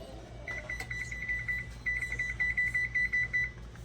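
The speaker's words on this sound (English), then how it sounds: "I'm going to set the timer" A kitchen oven timer being set, giving a quick run of short electronic beeps over low background hum, close by and fairly clear, with no talking.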